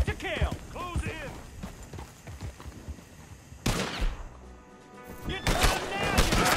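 Gunfire in Red Dead Redemption 2: broadband bursts of shots, including a dense fusillade around the middle and toward the end, mixed with hoofbeats and shouted voices throughout.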